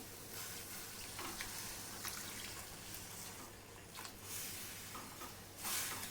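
A glass of hot water poured into sizzling masala for a pomfret curry gives a soft, steady hiss and bubbling sizzle, faint and without speech, swelling slightly near the end.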